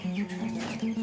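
Turkey chicks housed together with Cobb 500 broiler chicks make a close, continuous run of peeping and clucking calls, with no talk.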